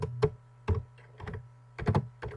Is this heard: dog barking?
no